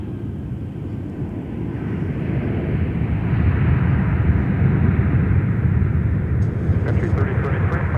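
An airplane at MSP airport roars steadily, a broad rushing jet noise that swells and holds, heard at a moderate distance with faint background clicks near the end.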